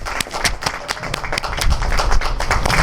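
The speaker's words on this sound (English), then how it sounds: "So let's give everyone a round of applause." Outdoor crowd clapping at a ribbon cutting ceremony at Point Gratiot in Dunkirk, NY, with scattered claps building to steady applause over about three seconds, moderately loud.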